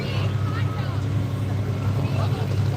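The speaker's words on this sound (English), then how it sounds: "Don't get to see this tractor a whole lot over in this neck of the woods" A farm-class pulling tractor at a Cumberland tractor pull gives off a deep, continuous engine rumble in the background while a person talks over it.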